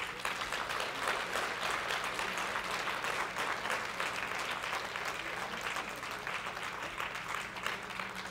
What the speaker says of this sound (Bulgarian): ще помоля за вашите аплодисменти